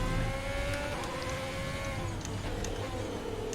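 F1 car in a racing video game, engine note steady and continuous through the clip with rising tonal whine, loud and close, a few faint clicks overhead.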